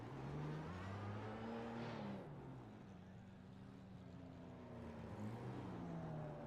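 A Porsche race car spins donuts in a racing game at Circuit of the Americas, its engine droning steadily with rising and falling pitch as it swings around, faint and continuous.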